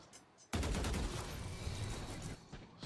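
Gunfire from a Vandal rifle in the tactical shooter Valorant, a sudden loud burst of rapid shots during a competitive esports match, continuing as a dense volley for about two seconds before tapering off.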